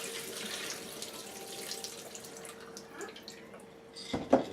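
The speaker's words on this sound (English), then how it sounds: "And then just rinse them." Running water from a tap splashes over soaked peas in a sink, a steady faint rush with a few louder splashes near the end.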